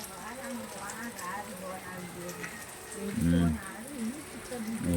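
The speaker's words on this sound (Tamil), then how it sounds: "மழை பாருங்க பேஞ்சிட்டே இருக்குது." Steady rain falls in a continuous dense patter, with someone speaking over it in Tamil and a brief louder thump partway through.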